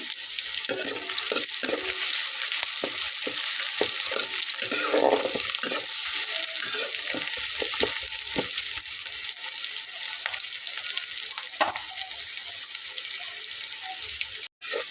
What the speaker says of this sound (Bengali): এটাকে কিন্তু একদম গোল্ডেন করে ভেজে নিতে হবে।